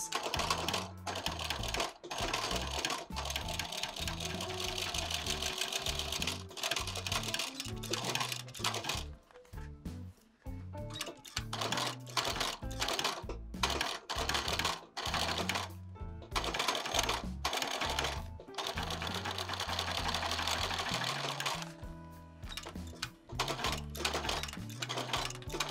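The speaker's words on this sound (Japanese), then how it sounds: "続いてタンの部分にミシンをかけていきます。" An industrial sewing machine stitches the tongue of a handmade leather shoe upper, rapid mechanical clatter in bursts with short pauses between runs, close and clear with no talking.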